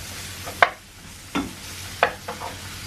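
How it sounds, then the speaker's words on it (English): Onions frying in a pan for a balti chicken dish, a soft sizzle under three or four distinct scraping stirs spaced about a second apart. "let your onions fry for about, I think 3 to 4 minutes"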